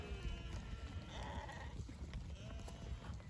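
A mob of 142 rising six-year-old Merino ewes, Kerry blood and vendor bred, bleat in a dense, overlapping chorus, steady and moderately distant across the whole stretch without speech.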